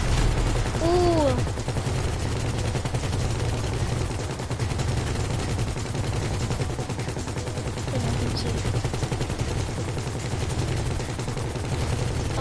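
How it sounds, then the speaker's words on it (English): GTA 5 shootout with a steady stream of gunfire, moderately loud and continuous over a constant engine-like drone, with a brief exclamation from a player early on. "I'm shooting at it with all my might."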